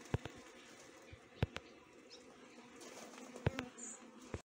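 Honey bees buzzing during honey extraction in a Czech apiary, bees brushed from combs into a funnel; a faint, steady drone runs through the scene, broken by several sharp knocks and taps.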